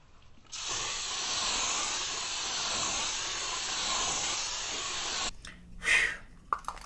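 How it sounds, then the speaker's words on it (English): A long, steady hiss of an aerosol makeup setting spray for about five seconds, followed by faint rustling and a soft breath. "So give it a good shake and hold your breath because it is an aerosol."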